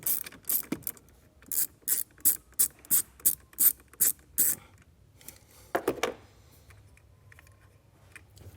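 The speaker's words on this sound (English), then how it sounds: "We can remove that nut with a 10mm socket." A ratchet with a 10mm socket backs the nut off a positive battery post: a quick run of about a dozen sharp, evenly spaced clicks, close and crisp, then a short metallic rattle and quiet, with no voices.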